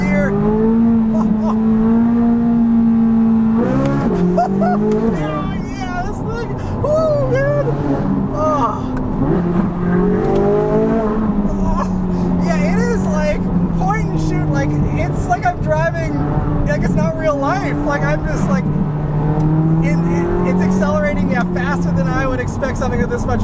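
A 2023 Chevrolet Corvette Z06 accelerates hard in first gear, its engine note climbing steadily and loudly for a long pull, with a person talking over it.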